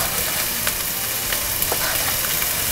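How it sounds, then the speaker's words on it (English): Onions frying in olive oil in a pan give a steady, loud, dense sizzle with faint crackles and pops scattered throughout, heard close up with no talking. "so now I'm going to put in some olive oil inside the pan. And then let's put in the onions."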